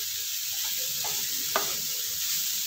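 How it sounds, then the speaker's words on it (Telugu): Bitter gourd frying with spices in a pan, a steady bright sizzle with a couple of soft scraping stirs, close up and without voices. "ఇది నేను అన్ని మసాలాలు వేసుకొని బాగా ఫ్రై చేసుకోండి."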